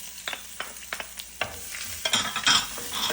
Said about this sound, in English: And saute it until it's soft.